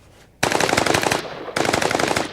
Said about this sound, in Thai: มีคนยิงกันวะ